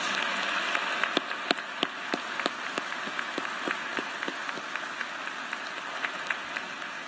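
A crowd at a university graduation ceremony applauds steadily, many hands clapping in a dense, sustained patter with a few sharper claps standing out, and no talking.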